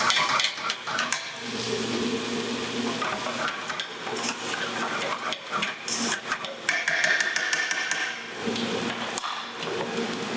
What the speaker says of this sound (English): I'm stirring the onions and the fat from the pan, and I stir everything together properly nice.